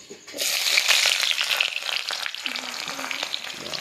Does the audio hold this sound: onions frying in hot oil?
yes